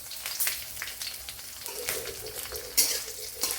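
Dried red chillies and chopped green chilli hit hot oil in a pan, giving a steady crackling sizzle with occasional stirring clinks of a spoon, close and alone.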